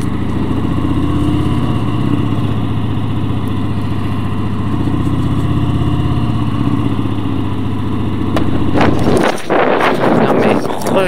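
A 2018 Harley-Davidson Fat Bob 114 motorcycle rumbles steadily with a deep, loud engine throb close by for about nine seconds, then the engine note drops away, leaving wind noise and a brief spoken voice.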